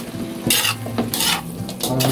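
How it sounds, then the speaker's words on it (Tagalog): Vegetables sautéing with pieces of fried meat in a pan, with repeated stirring scrapes and utensil clinks over a steady close sizzle, no talking. "i-separate na po natin tong gulay na ating ginisa"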